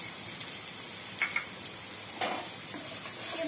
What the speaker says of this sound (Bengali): ভালো করে পেঁপেটাকে নেড়ে চেড়ে ভেজে নিচ্ছি।